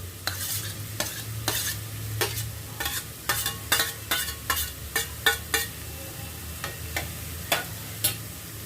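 Two medium finely chopped tomatoes stirred into a frying brinjal masala, with a steady sizzle under a dozen sharp, regular spoon scrapes against the pan, close and clear, no talking.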